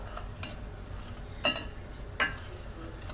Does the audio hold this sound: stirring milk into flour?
yes